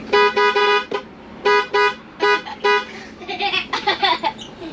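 A Class A motorhome horn sounds in a freeway traffic jam: a series of loud, close honks in uneven bursts, some short and some held, followed by softer overlapping honks from other vehicles.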